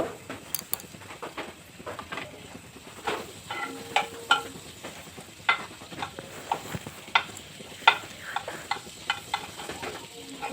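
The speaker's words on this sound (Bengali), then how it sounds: "বাটারটিকে আমি মেল্ট হতে দেব" Butter melting in a pan for white sauce pasta, giving a soft, uneven sizzle broken by frequent small clicks and taps of a utensil, close and fairly quiet, with no talk.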